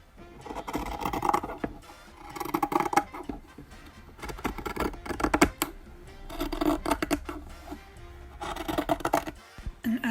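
Scissors snip through vintage dress fabric on a flat surface in bursts of close crisp cutting and rustling, separated by short pauses, with no talk.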